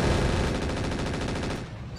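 Mech machine guns firing in the Roguetech video game, a loud continuous rapid burst of evenly spaced shots lasting about two seconds before tapering slightly.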